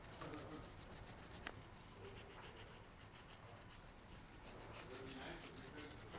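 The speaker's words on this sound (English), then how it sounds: "Give it a nice brush down, scrub that really good so we can get all that carbon buildup off" A cleaning brush scrubs carbon and grime off the recoil spring of a Springfield XD pistol, giving soft, quiet, continuous rubbing strokes close by.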